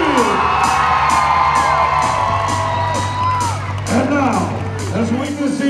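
A live crowd at a hosted stage show whoops, yells and cheers steadily throughout, a loud, dense roar with an amplified voice and music-like tones mixed in.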